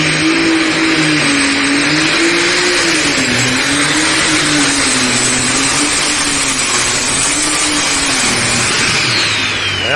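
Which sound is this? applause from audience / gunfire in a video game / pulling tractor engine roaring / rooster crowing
pulling tractor engine roaring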